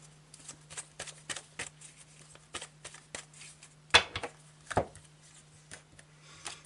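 Tarot cards are shuffled and slid from the deck, a series of quick papery flicks and rubs at an uneven rhythm, close and fairly quiet over a steady low hum.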